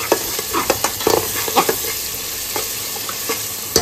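Onion, ginger and spices with salt and dried fenugreek leaves frying in a pan, a close steady sizzle broken by repeated spatula scrapes and knocks.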